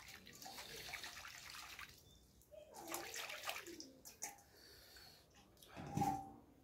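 Flowers being washed by hand in a basin of water, with soft splashing and rinsing sounds that come and go close by, including a brighter splash near the end.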